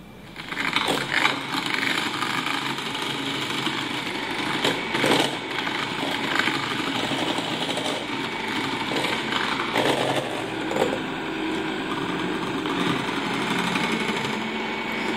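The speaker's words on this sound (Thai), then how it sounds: "ปุ๊กจะคอยหมุนแฮนด์มิกเซอร์ไปเรื่อยๆไม่ได้ตีอยู่ที่เดียวเพื่อว่าเราจะได้ตีไข่ให้ทั่วค่ะ" A handheld electric mixer whirs steadily as it beats eggs with sugar, moved around the bowl, a continuous buzzing motor drone with slight surges in pitch and load, close and fairly loud, no voices.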